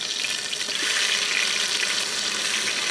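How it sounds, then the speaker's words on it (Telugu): Onion and green chilli paste frying in about 200 grams of hot oil for mutton biryani, giving a steady, dense hiss and sizzle that holds at an even level throughout with no talking. "నూనె హీట్ ఎక్కింది, ముందుగా రెడీ చేసి పెట్టుకున్న ఉల్లిపాయ పేస్ట్ చేసుకుంటున్నాను."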